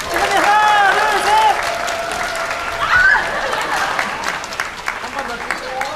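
Wedding guests applaud during a group photo at a wedding hall, a burst of clapping with excited cheering voices that fades to lighter scattered claps and chatter.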